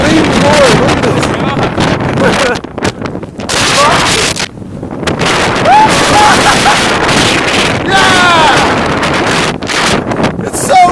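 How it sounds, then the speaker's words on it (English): Strong wind roars across a metal rooftop and buffets the microphone in loud, continuous gusts, with people's voices faintly breaking through now and then. "It's so windy."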